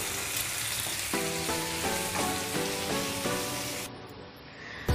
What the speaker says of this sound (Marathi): ह्या साईडनं पण एक 5 ते 6 मिनिटे चांगले फ्राय करून घेऊया